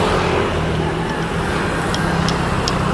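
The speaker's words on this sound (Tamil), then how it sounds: "இதாங்க ரோடு ஹைவே, செம்மையாக டிராஃபிக்காக இருக்குது." Heavy highway traffic in North Bali rumbles as a steady, dense roar of passing vehicles, with a few faint higher clicks or horn-like blips near the end.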